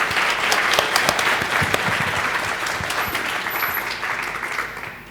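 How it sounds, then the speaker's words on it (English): An audience applauds guests at a contemporary art talk, with steady, dense clapping from a crowd indoors that continues throughout and tapers slightly at the end. "May I ask for a round of applause for our guests?"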